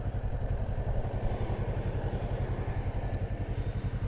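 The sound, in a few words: motorcycle idling at traffic light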